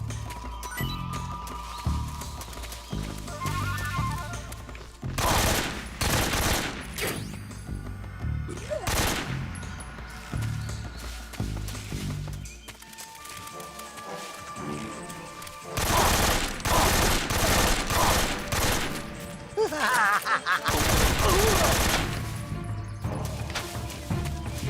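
Automatic AK rifle fire from Metal Gear Solid 3, loud repeated bursts and rattling volleys spread across the clip, with crashing impacts and other game sounds between them.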